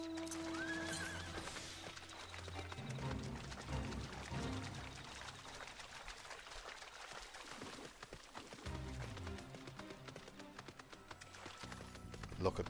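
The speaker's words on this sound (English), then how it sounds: "Look at my horse. My horse is amazing." A horse in the video game Final Fantasy XIV whinnies and its hooves clip-clop in a rhythmic trot, set over game music and ambience while a person talks.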